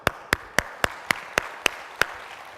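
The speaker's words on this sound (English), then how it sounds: "let's clap for each other" Eight sharp, evenly spaced claps ring out in a slow, regular rhythm from a small seminar audience, each one crisp and distinct against a quiet room.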